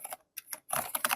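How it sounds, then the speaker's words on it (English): Soft, muted keystrokes on a Keychron V6 Max wireless mechanical keyboard, a few quick taps, a brief pause, then a faster run of typing, close and quiet with almost no click and no voices. "It is insane how soft it is by being a mechanical keyboard."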